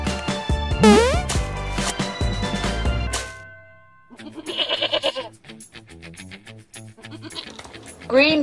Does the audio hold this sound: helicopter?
no